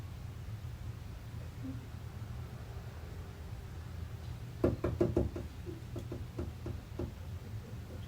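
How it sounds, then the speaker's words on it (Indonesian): Knocking on a door in a tense, eerie night setting: a burst of several sharp raps midway, then a few more spaced knocks, fairly close over a steady low hiss. "ketukan pintu yang menambah suasana mencekam"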